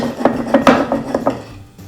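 A spoon held on the bottom of a bowl shakes back and forth to fold a lentil and tomato salad, making a quick series of light clinks and scrapes against the bowl.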